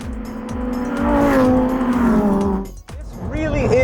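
A 2021 Lamborghini Huracán STO at speed on the Willow Springs track: the engine note climbs loudly through the revs, drops sharply at an upshift, then pulls hard again, with a close, roaring intensity.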